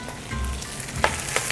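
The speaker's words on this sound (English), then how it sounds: "All right, so I'm adding my collard greens." Chopped collard greens hit a hot pot and sizzle with a steady, loud frying hiss, with a couple of brief clinks of stirring, close by.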